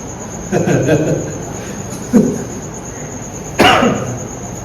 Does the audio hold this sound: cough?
yes